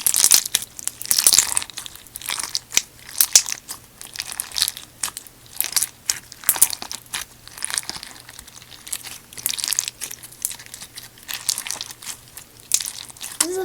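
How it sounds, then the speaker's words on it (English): Crunchy bead slime made with craft-store beads being squished and kneaded by hand, giving a steady run of close crackling crunches and small popping bursts with no talking. "it's really crunchy. It makes really good bubble pops."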